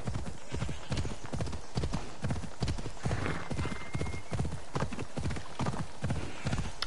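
Horse hooves clip-clopping in Assassin's Creed Odyssey, a steady, loud, evenly spaced rhythm of hoofbeats at a brisk pace, close by, with a brief whinny-like sound partway through.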